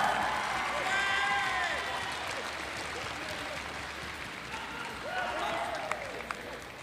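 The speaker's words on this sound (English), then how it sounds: "Please give them a big round of applause." Crowd applause and cheering fill a gym at a boys' high school basketball homecoming between Monument Valley and Window Rock, a steady loud roar that swells and fades, with an announcer's voice and shouts rising over it.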